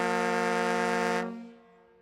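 An old Halifax Thunderbirds lacrosse goal horn sounds one loud, steady, harmonically rich blast lasting just over a second, then cuts off with a short fading tail.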